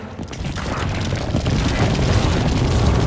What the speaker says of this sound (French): J'active la bombe.